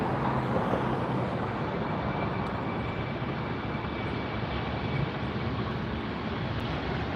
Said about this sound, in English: Because there's an aircraft going out on 24 left, so they have to wait to cross until it after it departs.